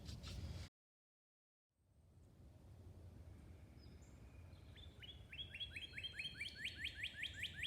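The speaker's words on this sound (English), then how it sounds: "Listen for the birds." Birds chirping outdoors on a farm, faint repeated tweets that grow into a quick rhythmic series of high chirps over soft background hiss, after a short burst of noise and a moment of silence.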